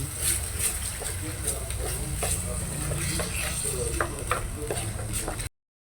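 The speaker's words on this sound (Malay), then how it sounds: "Kacau supaya cili dan belimbing sebati." A spoon scrapes and stirs chili and bilimbi (belimbing buluh) through a sizzling pan, irregular scraping strokes over a steady fry, close by, with faint talk in the background.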